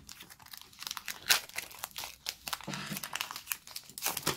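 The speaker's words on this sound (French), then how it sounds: "On va ouvrir ce booster." A Pokémon card booster pack is torn open close up, with bursts of sharp foil crinkling and ripping in irregular bunches over a few seconds and no speech.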